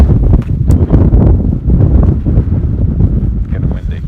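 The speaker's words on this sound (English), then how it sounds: "Getting windy." Strong wind on Dartmoor buffets a wild camp, roaring continuously and loudly across the microphone in heavy, rumbling gusts that never let up.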